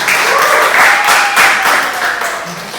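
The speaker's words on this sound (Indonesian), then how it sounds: "Tolong berikan tepuk tangan kami." Classroom audience at a high school lesson claps steadily for an assistant, a dense, loud burst of applause lasting about three seconds with no one talking over it.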